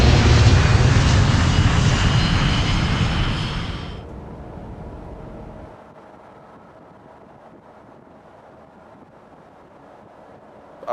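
A jet aircraft taking off roars loudly and close for several seconds, then fades abruptly into a low, distant rumble with wind noise, no talking.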